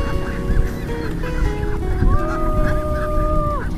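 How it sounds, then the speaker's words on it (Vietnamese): Pink-dyed ducks in a rural Mekong Delta flock, resting and preening after feeding, honking and clucking loudly and continuously close by, with overlapping calls and one longer drawn-out cry. "Mấy chú vịt nó di chuyển xuống đây xong bắt đầu rỉa lông nghỉ ngơi sau một ngày đi ăn"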